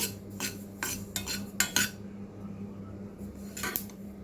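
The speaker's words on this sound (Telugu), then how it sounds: "ఇవి కలుపుతూనే ఉండాలి అయితే ఊరికని మాడిపోతాయి" A spoon scrapes and clinks in a pan while dry-roasting sesame seeds, nuts and lentils for karam podi spice powder. Several sharp strokes sound close over a low background hum, with no speech.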